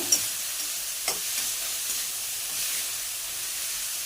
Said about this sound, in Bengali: পেঁয়াজটা থেকে একটু ভালো ভালো করে ব্রাউন কালারে ভেজে নিয়েছি